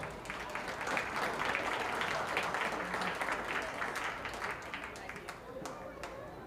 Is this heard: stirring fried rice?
no